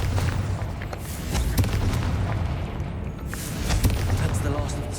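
Confringo fire spells blasting repeatedly in Hogwarts Legacy combat, a dense, continuous rumble of booming explosions with sharp bursts layered over it, loud and close throughout.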